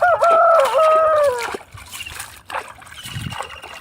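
A rooster crows loudly close by at the start, a long wavering call, followed by quieter water trickling and splashing.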